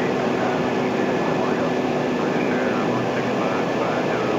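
Beechcraft King Air twin-engine turboprop running on one engine after the right engine's fuel is shut off, a steady loud broadband cabin drone with constant propeller hum throughout, voices faint beneath.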